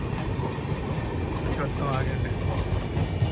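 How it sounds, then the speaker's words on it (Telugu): A passing train on the adjacent track, a Rajdhani express running beside the Andaman Express out of Chennai Central, rumbles as a steady broadband roar throughout, with a person speaking briefly over it. "అటు సైడ్ ఒక ట్రైన్ వెళ్ళిపోతుంది"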